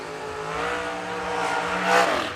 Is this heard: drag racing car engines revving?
yes